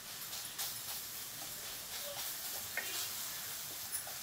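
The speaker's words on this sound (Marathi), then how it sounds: "प्रत्येक वेळेस रवा हलवताना आपण ते केळ जे आहे ते स्मॅश करत राहायचं." Semolina and mashed banana roasting and being stirred in a pan for sheera prasad, a steady soft sizzle and hiss with light scraping strokes of the spoon throughout, fairly quiet and close with no talking.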